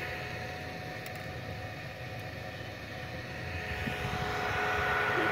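Arc welding with 4 mm electrodes on a 125 welding machine makes a continuous, close, hissing crackle over a steady electrical hum. It swells slightly louder toward the end, with no voices.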